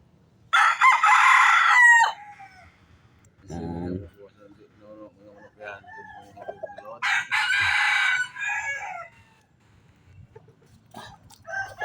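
A domestic rooster caught in the mountains crows loudly and close twice, each crow lasting over a second, with a short burst of clucking between them and quiet talk in the background.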